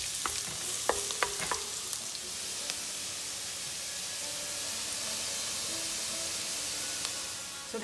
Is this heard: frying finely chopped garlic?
yes